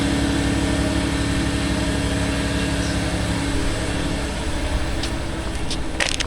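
A 2020 Ram 1500 engine idles steadily with an exhaust manifold leak, a close, constant low rumble with faint ticking and a few brief higher clicks near the end.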